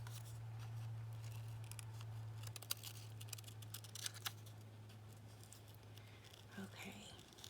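Scissors snipping fabric for an Easter bunny collage on a junk journal cover, a run of quick, soft, close cuts over a low steady hum, faint overall.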